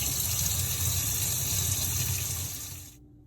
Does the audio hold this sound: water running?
yes